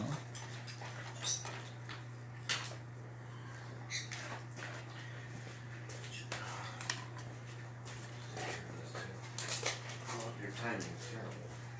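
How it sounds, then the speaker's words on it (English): Dog eating close by indoors, with irregular wet chewing, lapping and clicking sounds over a steady low electrical hum throughout. "I have a dog eating over here"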